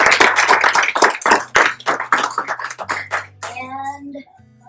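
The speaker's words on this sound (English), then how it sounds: "let's give them a round of applause." Guests at an 18th birthday and graduation party clap in a burst of loud, close hand claps that thin out and fade, with voices and someone talking among them.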